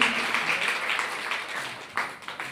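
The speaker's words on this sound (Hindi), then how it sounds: "उस मैया के लिए भी आप ताली सेवा करें।" Short burst of clapping from a devotional gathering's audience in honor of a woman's donation, moderately loud and uneven, tapering off with a few scattered claps.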